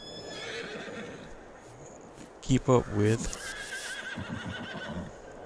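A loud horse whinny bursts out briefly mid-clip in Farming Simulator 22, with soft hoof clops and a person talking quietly before and after.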